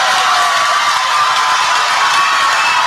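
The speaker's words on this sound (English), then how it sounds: "You could probably tell by the reaction of the crowd" A basketball crowd at a girls' high school game between Harrisburg and Pierre T.F. Riggs roars steadily after a made free throw, a loud, sustained wash of cheering and shouts with no single voice standing out.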